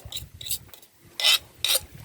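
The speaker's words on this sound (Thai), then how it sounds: "เอาไปหั่นก้อน" A knife chops food into chunks in a rural Thai outdoor farm kitchen, making four or five sharp, rasping cuts. The last two cuts are louder, and a low background murmur runs underneath.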